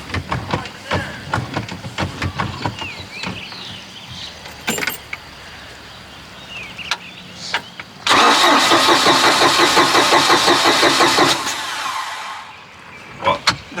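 3.0 MerCruiser engine in a neglected Bayliner boat cranking, preceded by clicks and a person talking, then a loud steady starter grind lasting several seconds that cuts off without catching.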